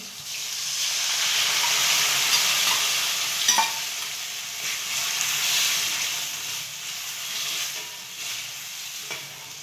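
Steady hissing sizzle of dal tempering, spices such as asafoetida and turmeric frying in hot oil, continuous and close, with a few faint clinks of a utensil against the pan.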